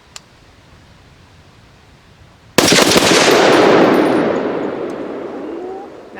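A Stag 10S .308 rifle firing PPU ammunition lets off a single loud, sharp shot, its report and echo ringing out and fading over several seconds outdoors after quiet background.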